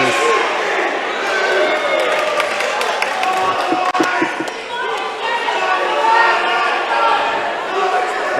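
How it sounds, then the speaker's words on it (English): An arena crowd at a combat-sports championship fight roars and cheers in a dense, continuous wash of voices, punctuated by sharp impacts and shouts, with an announcer talking over it. "the crowd is just really showing their support for these two athletes"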